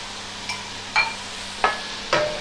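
Three chopped onions sauté in a kadai for a kadai chicken dish, four distinct scraping, clattering stirs of a spoon against the pan over a low background sizzle, close and fairly loud.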